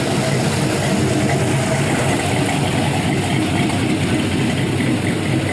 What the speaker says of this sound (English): Give one more listen to the exhaust.